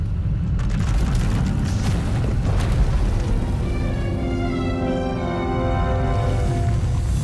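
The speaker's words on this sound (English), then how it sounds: "When it erupts, the entire asylum will be destroyed." A massive power eruption in the SWTOR video game, a Force energy blast tearing through an asylum, rolls out as a sustained loud booming rumble with crackling bursts, building into a drawn-out roar with no voices.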